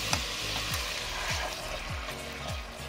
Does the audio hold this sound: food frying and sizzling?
yes